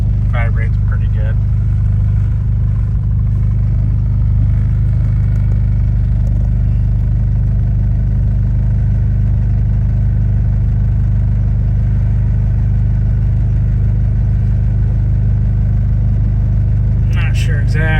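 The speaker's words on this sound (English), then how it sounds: "The exhaust hitting the frame too. Vibrates pretty good." A 1996 Honda Civic hatchback engine runs steadily with a loud, constant low rumble and buzzy vibration, its exhaust rattling against the frame throughout; brief talk is heard at the start and end.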